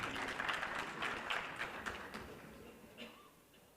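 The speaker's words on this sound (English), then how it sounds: "May we have a clapping?" Applause from a conference audience at an energy conference in Pakistan, a faint, dense patter of clapping that tapers off over a few seconds.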